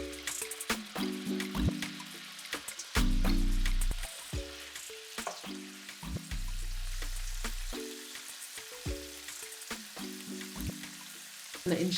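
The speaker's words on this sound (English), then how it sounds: "We're going to go ahead and put the prepped vegetables into the frying pan." Prepped vegetables frying in a pan for jerk prawn rasta pasta, loud sizzling in repeated bursts as they hit the hot pan and get stirred, with clatter between the surges and no talk.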